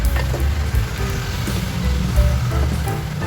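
A pot of Ilocano deningdeng with yellowfin fish and saluyot leaves at a rolling boil, giving a steady close bubbling and sizzling wash with low rumble throughout, no talk over it.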